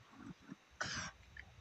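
A man coughs: two short, harsh bursts close to the mic against a quiet background, the second one abrupt and louder.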